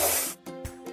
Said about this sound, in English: Drag the paint gun over the stain to paint it over.